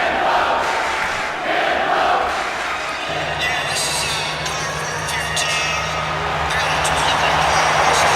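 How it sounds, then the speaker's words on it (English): A crowd roars and cheers for a fighter entering the Octagon in the THQ UFC video game, a broad steady wash of noise with a low hum joining partway, heard beneath a commentator's voice. "listen to the crowd. They love this guy"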